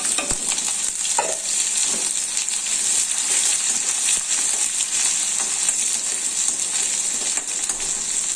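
Onions frying in oil with mustard seeds and cumin give off a bright, loud, continuous sizzle, with occasional stirring scrapes and small clicks from the pan throughout.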